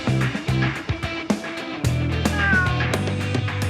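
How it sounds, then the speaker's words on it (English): Several cats meowing over one another in a cramped car, the overlapping cries loud and close amid a busy background. "So you have 30 cats then?"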